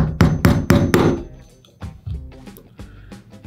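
A hammer strikes sharply four times in quick succession on a cam lock, then several softer, spaced taps and knocks follow, close and alone.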